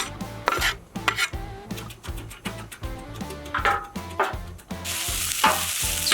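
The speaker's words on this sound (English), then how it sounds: "We'll get that evenly spread out across the griddle. And we'll just get the onions down." Onions being spread on an oiled griddle, a series of metal spatula scrapes and taps over a light sizzle that swells into a fuller hiss near the end, close by.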